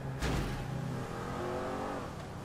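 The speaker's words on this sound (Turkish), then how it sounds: "Arabanın sesi güzel ama ya." Car engine in the video game GTA V revving up with a sharp burst, then a sustained rising drone that fades slightly, heard alone without voices.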